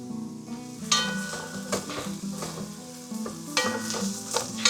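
Chopped onion sizzles steadily in a hot pan as it begins to brown, with repeated scraping stirs of a utensil across the pan surface, close and continuous, with no voices.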